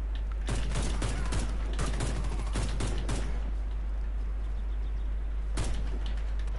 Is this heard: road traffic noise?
no